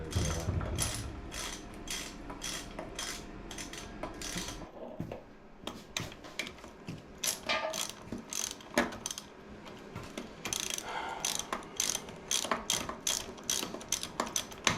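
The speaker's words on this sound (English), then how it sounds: "Here's the wrench, boys, the wrench" A ratchet wrench clicks in quick, uneven bursts as bolts come loose while an NP208 transfer case is removed from a 1980-1987 W150 pickup. The clicks are close and repeat steadily, with short pauses between runs.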